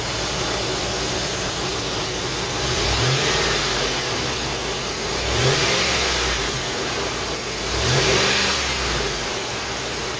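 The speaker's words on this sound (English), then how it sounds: "I'll do a couple revs just to get it up." Truck engine with a new thermostat and radiator revved in three swelling bursts over a steady loud idle, close by with no talking.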